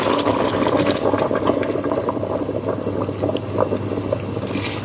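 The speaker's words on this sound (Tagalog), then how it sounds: "Tapos, lagyan na natin ng tubig mga kapsat ko." Water pours steadily and loudly into a cooking pot in a home kitchen while an Afghan Kabuli rice dish is being made, a continuous splashing gush with no talk.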